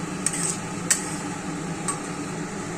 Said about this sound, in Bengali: পনির বলগুলো ছেড়ে দেওয়ার পর একটু নাড়িয়ে চাড়িয়ে ঢেকে দেবো।